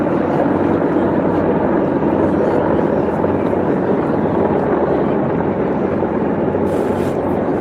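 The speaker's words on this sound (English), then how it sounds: "Got the Army planes going by." Army aircraft pass low overhead with a loud, dense, steady rotor-like roar that fills the whole stretch, and someone talks beneath it.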